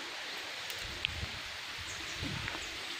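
Wind rustles leaves in a soft, continuous hiss, fairly faint and outdoors, with a couple of small distant chirps.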